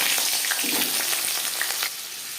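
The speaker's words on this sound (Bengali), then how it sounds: "তিন চামচ রিফাইন্ড অয়েল গরম করে নেওয়ার পর দিয়ে দেবো আলু" Potatoes fry in three spoons of hot refined oil, giving a loud, dense sizzle that eases slightly near the end, with no voices.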